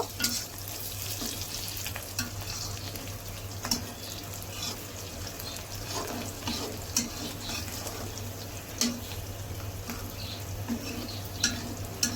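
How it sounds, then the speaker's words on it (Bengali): Onions frying and being stirred in a pan until golden brown before greens go in, a soft steady sizzle with periodic scraping stir knocks, fairly quiet and close, no talk. "এটা যখন লাল লাল হয়ে আসবে বেরেস্তার মতন, তখন শাকগুলা দিয়ে দিব"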